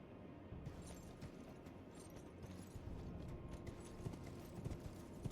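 A horse gallops in Elden Ring Shadow of the Erdtree, its hooves making a quiet, steady run of clip-clop beats over low rumbling game ambience, with no voices.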